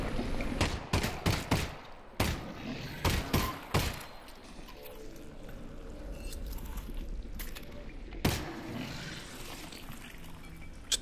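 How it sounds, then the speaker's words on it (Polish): Rapid gunshots in the VR video game Half-Life: Alyx, fired against creatures clinging to the ceiling: a quick cluster of loud, sharp reports at the start, then a lull of wet, rumbling ambience and one more shot. "Cztery strzały są potrzebne na tych gnojków przy sufitach."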